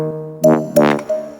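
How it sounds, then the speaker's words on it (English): Repetitive synth stabs from an Ableton electronic track hit in short bright bursts, three sharp chordal jabs over a sustained harmonic tone, each decaying quickly, with no voices. "Well, we've got these repetitive stab sounds."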